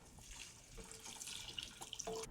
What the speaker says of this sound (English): what you're gonna do is you're gonna add the water